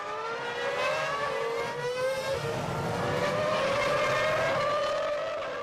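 Formula 1 cars from the 2006 season race past, a continuous high engine whine rising steadily in pitch, loud and close, with several overlapping car notes and no talk.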